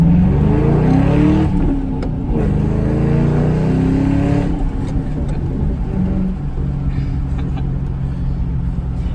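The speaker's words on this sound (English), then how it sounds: "I'm gonna do a pull here to show you guys how it sounds." Exhaust of a 2005-09 Ford Mustang GT pulling hard under acceleration, a loud, close, continuous engine roar that climbs in pitch through the gears with brief shift breaks, no talking over it.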